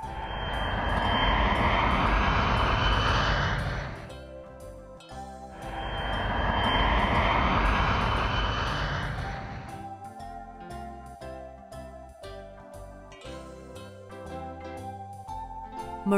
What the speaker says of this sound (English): Navy plane.